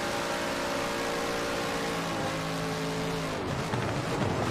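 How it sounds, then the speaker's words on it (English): A loud Jaguar race car engine screams at high revs at Le Mans, a steady harmonic howl that drops in pitch as it shifts and passes, with other engine noise behind it. "God, that Jag is loud."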